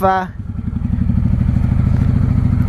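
A 1995 Honda Shadow VLX 600 V-twin idling close by, a loud, steady low loping thump with lumpy rhythm, after a brief high-pitched tone at the very start.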